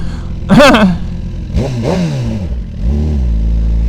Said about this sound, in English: People in their obnoxious cars.